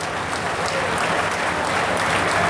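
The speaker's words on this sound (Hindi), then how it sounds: "तालियों के साथ स्वागत करेंगे" Loud, sustained applause from a large crowd at a political rally greeting the Home Minister, a thick continuous roar of clapping that swells slightly toward the end, with no voice over it.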